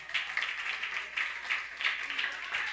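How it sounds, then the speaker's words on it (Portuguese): A church congregation claps together in a steady, continuous round of applause during a worship service, bright and fairly close, with a few louder bursts. "Dá uma ação de palmas pela fé desta irmã."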